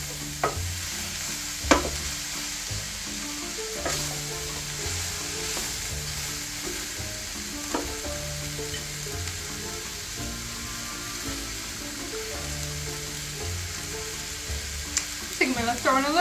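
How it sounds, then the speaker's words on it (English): Peppers and onions fry in a pan, with a continuous close sizzle and occasional scraping stir strokes. The sizzle grows a little busier near the end, and no voices are heard. "we're going to cook the peppers and the onions about 8 to 10"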